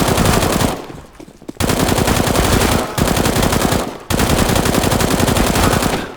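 FAMAS rifle in burst-fire mode in CS:GO, a loud, dense stream of rapid gunshots that are cut by two short pauses and then resume at full intensity.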